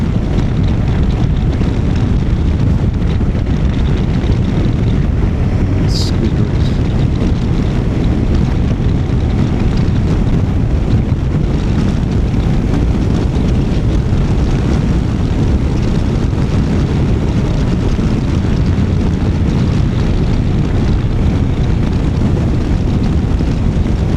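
Wind rushes steadily past a rider on a Honda NC750X motorcycle on a hedge-lined country road, a loud, dense, unbroken roar that fills the whole stretch, with no talk.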